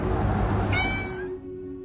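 A thin, sick cat with a runny nose, huddled in freezing cold, lets out a single loud, close meow that rises and then trails off.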